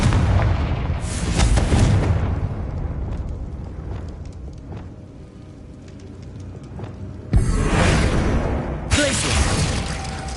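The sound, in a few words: Confringo fire spell explosions in the video game Hogwarts Legacy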